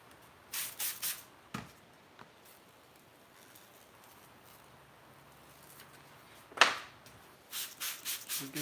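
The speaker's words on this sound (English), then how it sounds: "We'll give the car a good spray down" Short hissing bursts from a spray bottle come in small clusters, a few pumps at a time, spraying down a car, separated by quiet stretches with faint background noise.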